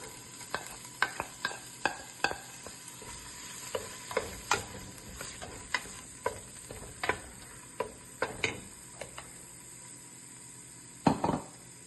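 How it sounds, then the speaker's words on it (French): Chopped onion sizzling in a frying pan, with a steady hiss under repeated sharp clinks and scrapes of a utensil stirring against the pan. "Je vais ajouter de l'oignon découpé."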